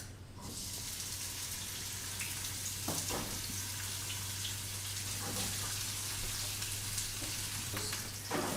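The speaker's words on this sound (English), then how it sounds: "The water chestnuts in the oil." Water chestnuts sizzle and crackle loudly in hot oil, a constant hissing fry with occasional stirring clatters, close up and unbroken.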